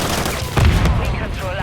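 Rapid automatic gunfire in Call of Duty MW3 on the Tokyo map: a burst of sharp shots stands out from ongoing battle noise, with game chatter in the background.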